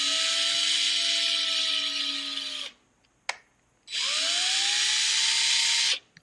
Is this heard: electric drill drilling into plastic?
yes